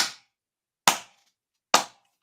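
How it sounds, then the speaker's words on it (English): Three sharp, crisp hand claps, evenly spaced about a second apart, each ringing out briefly into silence. "Clap, clap, clap."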